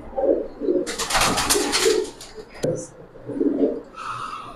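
A Sapchila pigeon of an old breed coos in repeated low throaty phrases, close and fairly clear, broken in the middle by a burst of rustling or flapping noise before the cooing resumes.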